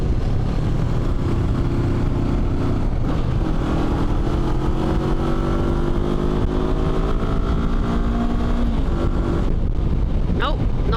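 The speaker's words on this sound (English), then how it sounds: "No, I'm definitely revving it off." A lightweight adventure motorcycle engine revs and drones continuously with rising and falling pitch, heavily buffeted by wind noise as if recorded while riding.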